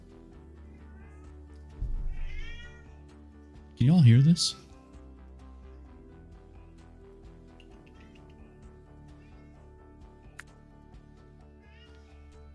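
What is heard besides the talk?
cat meowing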